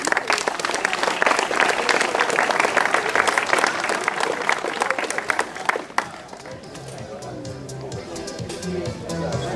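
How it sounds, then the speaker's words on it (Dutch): Crowd applause at a cycling prize ceremony after a closing time trial, dense continuous clapping for about six seconds, then fading into crowd noise with a low musical hum underneath. "Geef een geweldig applaus"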